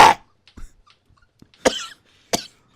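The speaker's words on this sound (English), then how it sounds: "I will cough." A person coughs close by: one harsh cough at the start, a few faint throat sounds, then two more distinct coughs spaced about a second apart.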